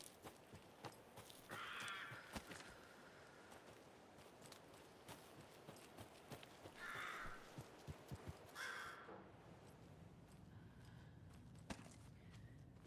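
Crows caw in the video game Alan Wake 2: several short raspy calls come in separate bursts over a steady ambient background, with faint footstep-like taps throughout.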